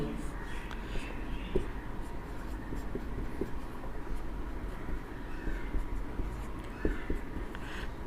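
Marker strokes on a classroom board while a para-nitrophenol structure is drawn for a chemistry lesson on hydrogen bonding. The writing is quiet, with soft scratches and taps under steady background room noise.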